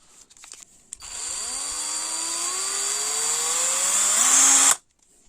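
A ten-year-old Pro-craft cordless drill with a repacked battery spins up after a couple of clicks, its whine climbing steadily in pitch as the speed rises, loud and close, then it cuts off abruptly.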